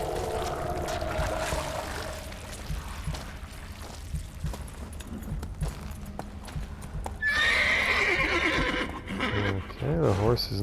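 In The Witcher 3 video game, a horse's hooves clip-clop and the animal whinnies near the end, set against game ambience and background tones.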